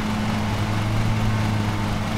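A lawn mower engine in the video game Lawn Mowing Simulator drones steadily at a constant pitch, a continuous low hum under heavy load with no voices.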